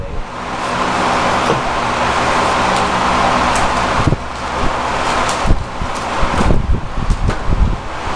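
A Lakewood HV18 high-velocity fan runs on low speed, giving a steady broadband whoosh of moving air, with a few soft rustles and bumps over the constant airflow toward the end.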